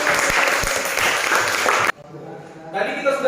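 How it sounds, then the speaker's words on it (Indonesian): A high-school classroom breaks into loud, dense applause from many students that cuts off abruptly after about two seconds, leaving a quieter room with faint voices. "Iya, berikan tepuk tangan."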